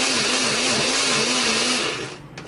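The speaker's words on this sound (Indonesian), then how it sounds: "kita akan haluskan menggunakan blender, beri sedikit minyak atau air supaya lebih gampang menghaluskannya ya" A kitchen blender grinds garlic with a little oil, a loud steady whirring motor with a wavering pitch that runs continuously, then winds down near the end.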